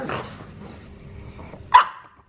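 A puppy gives a single sharp bark near the end, after a second or so of faint rustling and soft whimper-like sounds close by.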